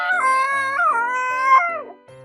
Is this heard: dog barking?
yes